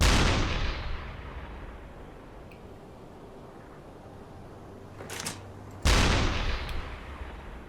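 A submarine deck gun firing at a ship in UBOAT, one loud boom decaying slowly, then a second sharp report near the end after a faint click.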